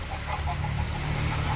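Chickens cluck inside a village poultry farm, soft scattered clucks over a constant low hum, moderately faint and close, with no clear voices.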